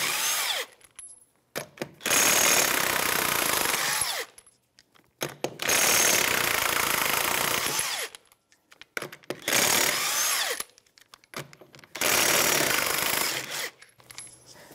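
An impact wrench fitted with a 21 millimeter socket removes lug nuts from a Toyota RAV4 rear wheel, firing in four loud close bursts of rattling hammering separated by short silences.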